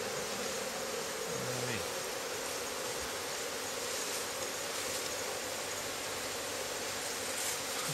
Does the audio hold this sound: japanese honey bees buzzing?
yes